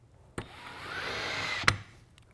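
A power drill drives screws into the connectors of a steel-and-wood workbench kit in one short whirring burst, framed by a few clicks and knocks at close range.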